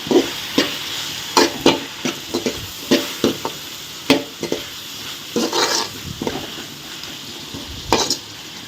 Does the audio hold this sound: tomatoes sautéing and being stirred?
yes